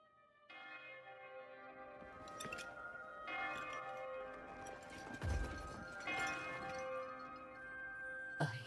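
Church-like bells ring in the video game Code Vein II, with layered tolling tones that sustain and overlap over a low rumble. Occasional clattering hits sound in the background.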